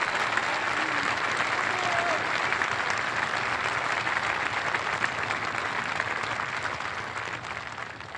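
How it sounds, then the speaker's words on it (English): Sustained applause from an audience at a Coast Guard promotion announcement, a dense steady wash of clapping that holds for the whole stretch and eases slightly toward the end. "Give him a round of applause."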